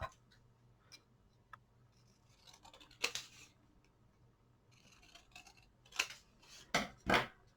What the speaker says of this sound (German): Und das schneide ich jetzt einfach ab.